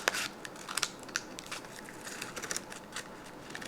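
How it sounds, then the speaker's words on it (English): Scissors snip through thin paper cupcake liner strips in a string of quick, crisp cuts with light crinkling, close up and fairly quiet with no talking. "So I'm cutting the strips with my pair of scissors."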